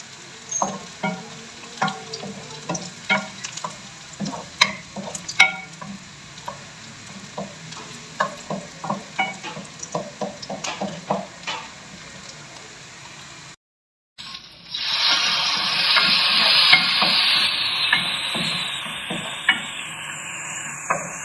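Onions fry in a pan for a whole green moong dal recipe, with repeated clinks and scrapes of stirring over a soft sizzle, then a brief pause and a louder, steady hiss of frying.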